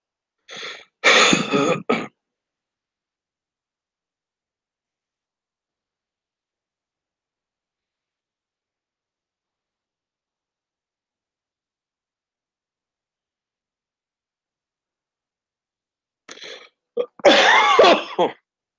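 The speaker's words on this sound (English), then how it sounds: "Need to hit the mute button when I cough." A couple of short throaty coughs close to the microphone, then long silence before another brief cough burst near the end.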